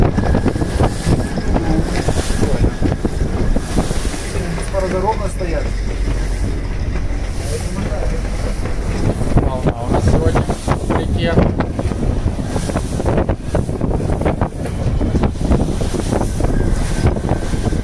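Strong wind roars steadily against the microphone with a low rumble of a Sargo 31 motorboat and water underneath during a storm, constant and loud throughout.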